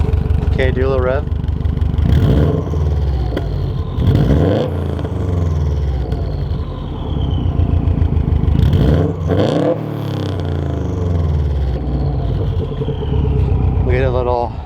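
A Subaru WRX engine with a loud HKS Hi Power aftermarket exhaust revs several times, rising and falling sharply between bursts of steady idle, with people talking nearby.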